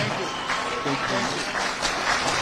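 An audience applauds in a sustained wash of clapping at moderate distance, steady and unbroken, with voices audible beneath it.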